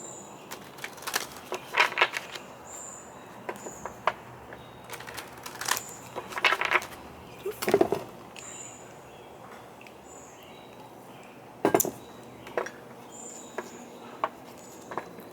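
A deck of tarot cards being shuffled by hand, with irregular bursts of soft riffling and tapping against quiet outdoor ambience where birds chirp faintly in the background.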